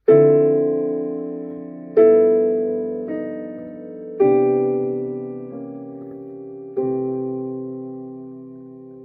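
Jazz piano chord voicings struck one after another, six in all, each ringing out and decaying, with the voicing shifting slightly from chord to chord through chromatic passing notes.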